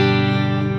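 A clean electric guitar chord from a Quad Cortex with a Marshall amp model, tape delay and plate reverb, rings out steadily and sustains evenly with a bright, shimmering ambience.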